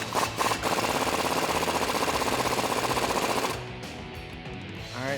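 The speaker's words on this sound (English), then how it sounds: "I'm going to use an impact on the front." Pneumatic impact wrench driving off a control arm nut on a Jeep Wrangler TJ, a loud rapid hammering burst lasting several seconds, then stopping abruptly to leave quieter background noise.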